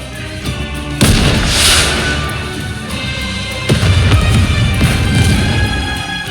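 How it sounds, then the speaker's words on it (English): A rocket launcher shell detonates in Goddess of Victory: Nikke on a snowfield, with two loud, heavy blasts about three seconds apart, each followed by a long, rumbling, debris-filled roar. "a shell flies from the rocket launcher. And a resounding explosion causes the entire snowfield to be blanketed in thick plumes of white smoke"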